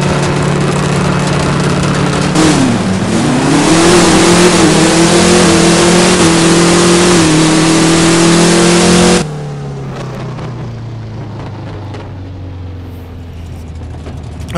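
An engine in a drag race in the mobile game No Limit Drag Racing 2.0, holding a loud, steady high rev, climbing as the car launches and pulls through, then cutting abruptly to a lower drone near the end.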